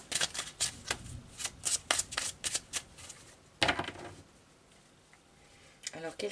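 Tarot cards shuffled in a quick series of crisp riffling bursts, then a pause and a final short flurry of card flicks, close and fairly loud.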